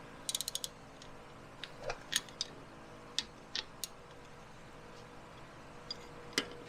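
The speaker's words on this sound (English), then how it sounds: "As you go to tighten up the caliper bolt" Metal clicks and ratcheting ticks from a wrench tightening a brake caliper bolt while replacing a car wheel hub, sparse and irregular with short bursts and pauses, close up and fairly quiet.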